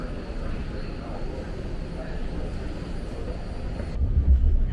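Steady low rumble of a San Francisco BART Red Line train rolling into International Airport station, with a heavier low thump near the end as it slows.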